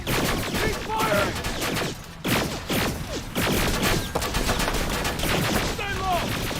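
Continuous gunfire in a Terminator: Resistance battle, rapid bursts of automatic fire crackling almost without pause, loud and close, with brief gaps and shouted voices mixed in.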